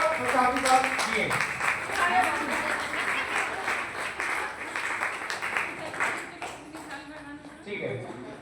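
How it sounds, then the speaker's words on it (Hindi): A gathered group gives loud applause for a grandmother, brisk clapping that runs throughout and fades toward the end, with voices talking over it. "जोरदार तालियां दादी के लिए"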